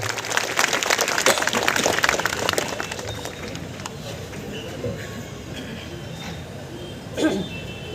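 A rally crowd applauds for Ramdas Athawale, opening with dense, loud clapping in the first few seconds. The clapping then fades into a murmuring outdoor crowd, with a brief burst near the end.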